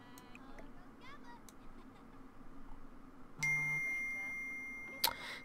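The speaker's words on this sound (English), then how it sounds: "Sorry if you heard that. That's my phone going off." A mobile phone notification chime rings out at a Sims 4 gameplay session, a bright tonal alert with a sharp ping near the end, cutting over faint game background sounds.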